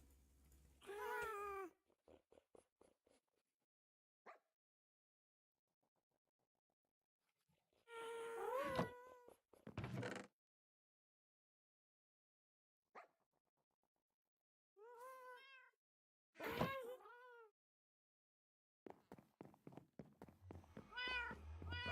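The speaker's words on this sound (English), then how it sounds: "So many cats in this place." Several cats meowing in the video game Minecraft, a run of repeated meows in bursts separated by quiet gaps, some calls overlapping, fairly close and clear.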